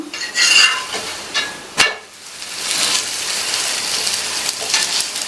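An onion roti is flipped in a pan and fries, with a soft steady sizzle after a brief clatter of the utensil against the pan near the start.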